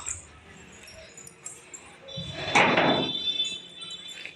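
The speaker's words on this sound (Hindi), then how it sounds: "चलिए अभी वो आ रही हैं तो उनको दरवाज़ा खोल देती हूँ।" A house door is unlatched and swung open on a foggy day, a faint rattle and jingle of the latch followed by a louder scraping, sliding sweep near the middle, with soft background noise around it.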